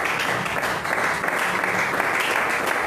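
A church congregation applauds in a steady, dense wash of clapping that fills the whole moment, loud and close, with no pauses.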